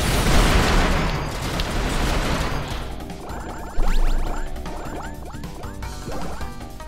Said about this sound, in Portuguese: muita explosão, pessoal.